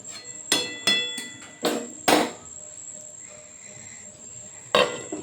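A lid set down on a cooking pot while Bengali papaya ghonto with bori simmers: several sharp metallic clanks spaced across a few seconds, close and fairly loud, with a brief faint ringing after each and no talk.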